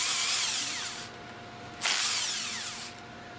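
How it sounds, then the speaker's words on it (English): An impact wrench fitted with a 5mm hex bit loosens the top cover bolts on an MKS MKSR pump, giving two loud close whirring bursts, each trailing off before the next starts. "Use the impact wrench with a 5mm hex attached to loosen the 4 bolts from the top"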